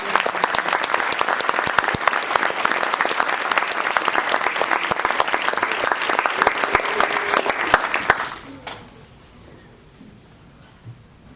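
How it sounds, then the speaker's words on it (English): Audience at a military graduation ceremony at Fort Carson, Colorado applauding the graduating students, a loud, dense, sustained round of clapping that stops abruptly near the end and leaves a quiet room. "Please join me in giving our students one more round of applause for completing this development"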